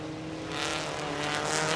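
Stock cars race around a dirt oval track, their engines blending into a steady, moderately distant roar that swells slightly as the cars carry on through the turns.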